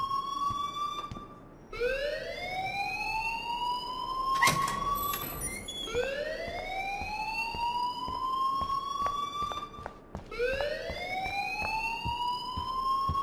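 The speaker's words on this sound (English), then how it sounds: "please turn off that alarm since that's your job" A fire alarm in the Life Is Strange video game wails in repeated rising sweeps, each climbing pitch cycle restarting every few seconds, loud and steady with a brief clatter mid-way.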